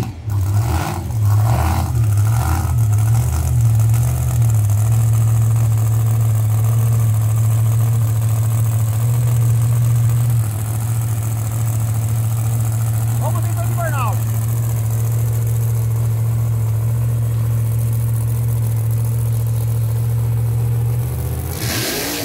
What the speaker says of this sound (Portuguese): José Marodema, cuidando aí do seu motor 481X, para que possa acelerar tudo que dá aí na puxada